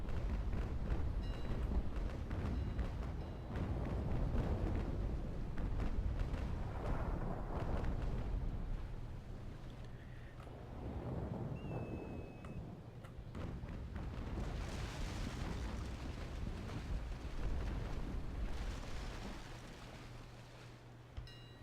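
Naval Action broadside cannon fire in a naval battle game, rolling booms and rumbling blasts repeating in waves across the whole stretch, loud and continuous with sea ambience beneath.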